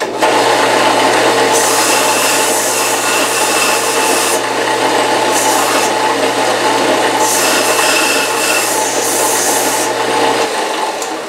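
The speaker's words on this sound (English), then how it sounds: "And over to the Delta belt sander." A Delta belt sander rounds off a metal thumbscrew, giving a loud, continuous close-up grinding rasp with brief surges in pitch as the part is pressed to the belt, heard alone.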